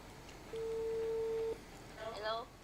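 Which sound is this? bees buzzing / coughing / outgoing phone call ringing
outgoing phone call ringing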